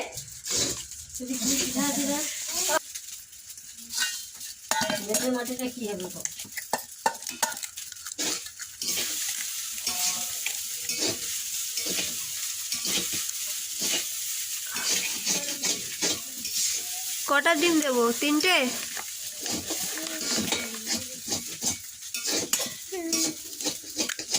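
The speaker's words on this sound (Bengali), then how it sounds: "এগুলোকে ভেজে নিতে হবে" Vegetables hiss and sizzle steadily in a pan while a spoon scrapes and stirs, with people talking over the cooking noise throughout.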